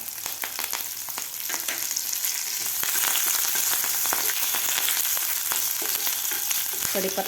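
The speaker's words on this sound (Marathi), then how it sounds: "हिरवी मिरचीसुद्धा आपल्याला व्यवस्थित फ्राय करून घ्यायची आहे त्यानंतर घालायचा आपल्याला कढीपत्ता" Green chili and curry leaves frying in hot oil for a Ganpati prasad dal, a steady loud sizzle and crackle throughout with occasional stirring clinks and a brief sharper burst near the end.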